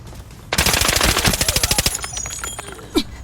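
Automatic gunfire in Arena Breakout rips out as a loud, rapid burst of evenly spaced shots, then trails off into scattered fainter reports and a single later crack.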